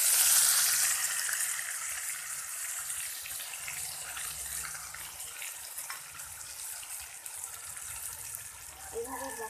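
Soaked spice paste hits a hot pan while cooking a soybean and potato curry, giving a steady hiss and sizzle that starts loud and settles into a continuous crackle.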